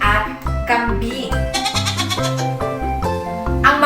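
A goat bleats in several wavering, harmonic calls over about four seconds, fairly loud and close. The cries are set against a light musical background.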